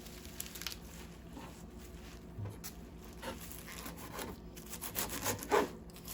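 A knife chops bunches of kale leaves into small pieces: soft, steady rasping and rubbing cuts repeat close to the microphone at a quiet level, with no talking.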